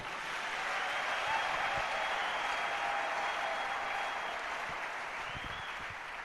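A church congregation applauding, sustained steady clapping from a crowd filling the whole stretch at moderate distance, with a few faint voices underneath.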